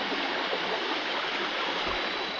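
A forest waterfall on a mountain trail pours in a steady, broadband rush of water, close and continuous with no voices.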